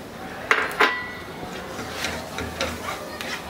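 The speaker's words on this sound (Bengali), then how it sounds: "এই কয়েক সেকেন্ড মাত্র নাড়ানাড়ি করতে হবে" A utensil stirs turmeric and chili powder in a cooking pan for an egg bhuna curry, with two sharp metallic clinks early on and then softer scraping taps spread across the clip.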